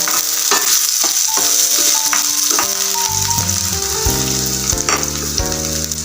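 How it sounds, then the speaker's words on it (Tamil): Green chillies and onions sautéing in oil in a pan, a loud steady sizzle with spatula scrapes and clattering metallic rattles, heard up close and alone. "கொஞ்சோண்டு வெங்காயம் ரெண்டையும் நல்லா வதக்கிடுவோம்"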